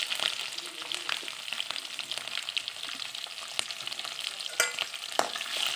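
Green chillies, ginger and chopped garlic fry in oil in a pan, a soft constant sizzle with sharp clicks and scrapes from stirring throughout.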